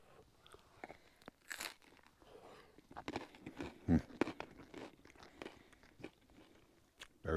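Someone bites and chews crunchy camp oven pizza crust up close, producing repeated irregular crunches and chewing sounds with no talking.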